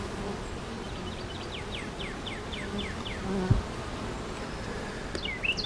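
Honeybees buzz in a dense, steady drone at the entrance of a beehive on a farm, with a few louder individual bees passing close, and faint bird chirps in the background.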